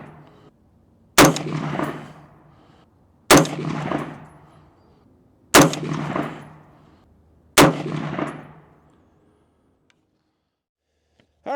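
Four sharp rifle shots fired at a paper bullseye target about 100 yards away, each one loud and sudden with a long decaying echo, spaced roughly two seconds apart, with no talk.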